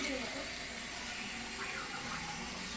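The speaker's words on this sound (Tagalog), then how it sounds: "Lagyan natin ng tubig." Water or broth is poured into a cooking pot of chicken sinigang, a soft, continuous trickling splash at low level, with a voice faintly present in the background.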